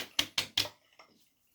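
Pinard Clubman aftershave, a lemony alcohol-based liquid, splashed onto the face by hand: three quick close slaps in a row, then a couple of fainter pats fading into quiet.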